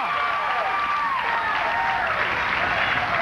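A crowd at a high school bowling championship claps and cheers in a steady, dense wash of applause with whoops on top. A commentator talks over it.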